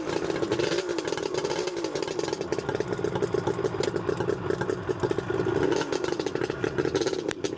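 A 1977 Suzuki GT380 motorcycle engine runs close by with a steady, busy two-stroke clatter, holding a fairly even pitch without a pronounced rev.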